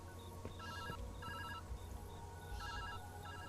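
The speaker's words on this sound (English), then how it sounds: "Phone is ringing." Telephone ringing inside the video game Viewfinder, a repeating electronic bell pattern in regular bursts over a steady game ambience, fairly loud and with no talk over it.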